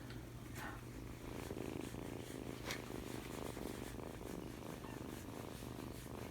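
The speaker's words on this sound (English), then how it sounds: "Listen to this baby purr." A kitten purrs steadily up close, a continuous low rumbling hum with no voices, holding an even rhythm for several seconds.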